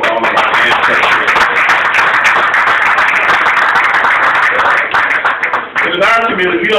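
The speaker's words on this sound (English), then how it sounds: "let's give a special big round of applause for all of our ancestors" Loud, sustained audience applause honoring ancestors at a community awards ceremony, dense clapping filling the room steadily before tapering slightly near the end, with a brief voice surfacing at the close.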